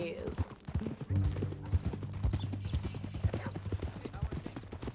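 Horse hooves clip-clop in an uneven walking rhythm on hard ground, close and clear, with a low droning tone and brief voices around them.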